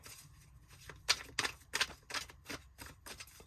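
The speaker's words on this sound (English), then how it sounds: "Two more shuffles here." Tarot cards being shuffled by hand during a reading, a series of short crisp riffling bursts in quick succession, close and fairly quiet with no talking.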